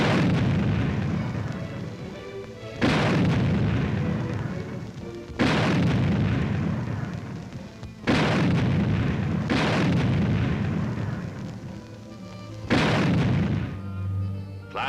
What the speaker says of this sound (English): a demonstration of what a 90mm tank gun sounds like in action